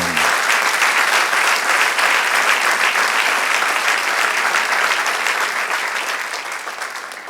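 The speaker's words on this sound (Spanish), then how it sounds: "Den un aplauso al Señor." A congregation claps steadily and loudly for several seconds, a dense sustained applause that slowly fades toward the end.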